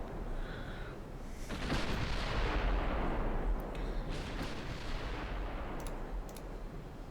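Heavy battleship gunfire in a naval warfare game: deep booming salvos swell into a sustained loud rumble with crackling impacts, continuous for several seconds without talk.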